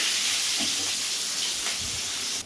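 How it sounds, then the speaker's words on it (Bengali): Fish frying in hot oil in a wok, a steady close hiss and sizzle with faint crackles, no voices, cut off abruptly at the end. "মাছগুলো ভাজা হচ্ছে"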